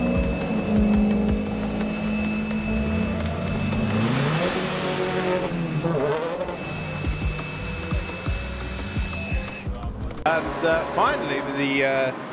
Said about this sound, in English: Finally, the Dylan Brichter and Ryan Parkin car has emerged back onto the racetrack